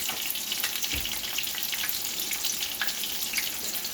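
A battered keto fish fillet fries in hot oil with a steady, soft sizzle and crackle that stays fairly faint and even from start to finish, with no talking.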